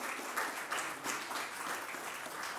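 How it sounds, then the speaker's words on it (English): Applause from a summit audience for ten bank presenters, faint and somewhat distant, with a run of quick clapping bursts over a few seconds and no talk. "Please give a round of applause for all the 10 of them."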